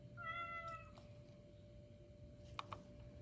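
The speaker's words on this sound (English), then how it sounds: "Say meow meow to Percy." A Chongker weighted interactive toy cat gives a short electronic meow, quiet and close, followed by a couple of faint clicks in a calm room.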